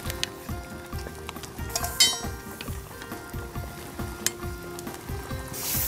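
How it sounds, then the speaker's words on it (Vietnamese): Cooked pork is scooped out of a cooking pot, with a constant sizzle and bubbling under repeated clinks and scrapes of a utensil against metal. A few sharper clanks stand out. "Rồi thịt giờ nó cũng chín rồi, thì mình vớt ra."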